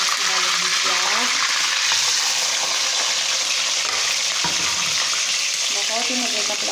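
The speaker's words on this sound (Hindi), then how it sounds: "हमारा ऑयल गर्म हो गया है तो अब मैं इसमें डालूँगी प्याज" Onions hitting hot oil in a pot for Karachi-style pulao give a steady, loud sizzle and bubbling hiss, with occasional scraping stirs throughout.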